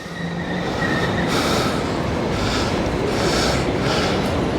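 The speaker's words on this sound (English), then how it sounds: "there's the train and the light rail or tram going past at the same time." A heavy train and a light rail tram rumbling past together in central Sydney near Haymarket, loud and close, with a continuous rolling roar, rhythmic wheel clatter and a faint high squeal.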